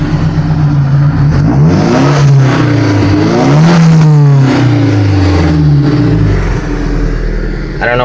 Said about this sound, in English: Let you hear the exhaust back here.